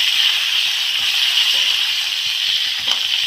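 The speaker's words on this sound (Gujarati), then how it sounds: "હવે નાખીશું હળદર, હાલો મિત્રો હલાવી નાખીશું" Tomato and carrot sambharo frying in a pan as turmeric and salt are stirred in, a steady close sizzle with soft scraping strokes underneath, no voices.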